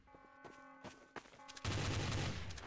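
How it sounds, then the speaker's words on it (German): Gunfire in the video game Trouble in Terrorist Town: scattered sharp shots early on, then a sustained loud burst of rapid fire that fills the last second, with no talk over it. "Oh, da wird geschossen."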